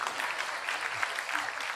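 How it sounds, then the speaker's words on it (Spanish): Congregation applause during a church sermon, a dense sustained wash of many hands clapping at steady loudness, with faint voices mixed underneath. "un aplauso a la carne"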